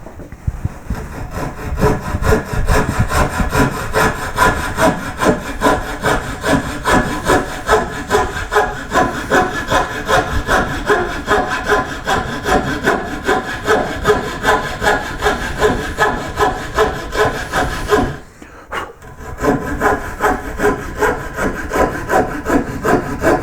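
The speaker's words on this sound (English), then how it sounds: "I'm going to cut this out with a coping saw." Coping saw cutting by hand through a wooden koi carp carving, a steady rhythm of rasping back-and-forth strokes that stays close and loud, breaking off briefly near the end before the strokes resume.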